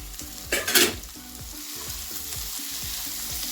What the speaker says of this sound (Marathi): छान हलक्या हाताने मिक्स करायचे आपल्याला